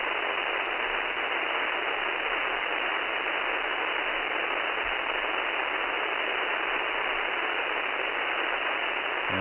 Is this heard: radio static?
yes